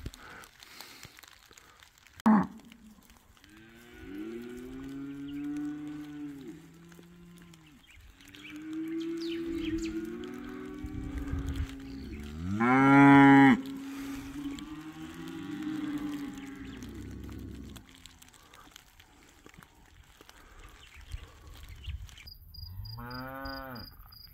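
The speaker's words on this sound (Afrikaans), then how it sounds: "hoe klink beeste in 'n kraal" Cattle in a kraal lowing and mooing, several long, drawn-out calls overlapping from nearby animals, with one louder bellow midway and shuffling farm sounds between, no speech.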